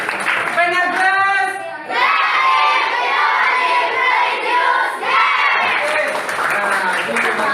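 A group of participants at a morning training session cheers and claps loudly in a dense, continuous burst, with shouting voices and a short dip partway through before the noisy applause resumes.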